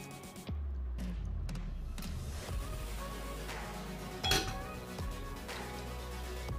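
Quiet clinks and scrapes of a spoon stirring oil through mango and fenugreek pickle in a pot, with one louder knock near the end.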